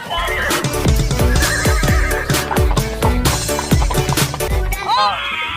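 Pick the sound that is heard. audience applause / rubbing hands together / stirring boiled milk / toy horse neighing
toy horse neighing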